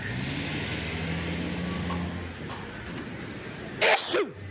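A person sneezes sharply outdoors on a New York City street, a single abrupt burst with a short follow-up, over steady traffic rumble and a passing car.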